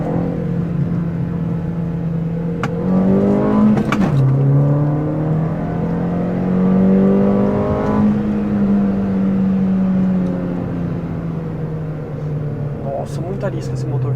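A Volkswagen Saveiro Cross engine revs up strongly and holds a steady high drone as it accelerates, with a pitch shift midway and a few clicks.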